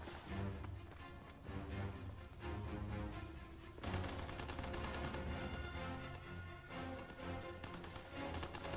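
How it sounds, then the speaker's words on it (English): Gunfire in a WWII prop hunt video game: sustained, dense bursts of shots crackle continuously at moderate loudness, with a sharp surge of louder fire partway through and no talk over it. "Look like they're shooting at each other."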